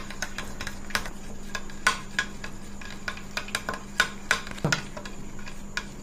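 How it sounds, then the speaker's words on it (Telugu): Omelette ingredients being mixed in a bowl, with irregular clinks and scrapes of a utensil against the dish over a steady low hum, no talking. "ఇప్పుడు ఇవన్నీ వేసుకొని 2 నిమిషాలు కలుపుకోవాలి"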